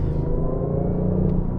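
A BMW i8 accelerating hard gives a steady, close engine rumble with a slowly rising tone that holds throughout.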